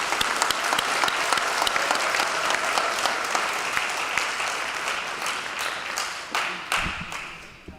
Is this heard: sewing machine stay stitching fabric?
no